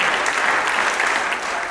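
Wedding ceremony audience clapping for the speakers, a dense burst of close applause that runs steadily for the whole moment.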